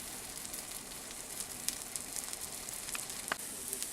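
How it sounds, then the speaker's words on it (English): French toast frying in a Teflon pan, a faint steady sizzle with scattered soft pops and crackles throughout, no voices. "Flip bread and eggs and then add to the Teflon pan. French toast added to pan."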